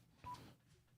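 A single short, faint telephone line tone from incoming calls, a brief electronic beep rising out of near silence and then fading.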